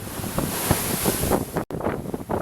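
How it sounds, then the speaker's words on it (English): Sea waves close alongside a boat on a voyage near Samos: loud, close rushing and splashing water mixed with wind buffeting the microphone, continuous with one brief dropout, no voices. "At first I wanted to enjoy the voyage close to the waves."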